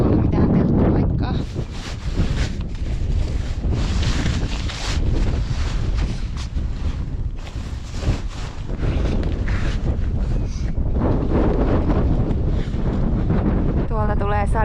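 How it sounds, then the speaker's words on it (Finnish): Strong wind buffeting the microphone on a fell summit in the Muotkatunturi wilderness, a loud, continuous roaring rumble with gusty surges throughout and a brief voice near the end. "Sieltä tuulee aika kovaa."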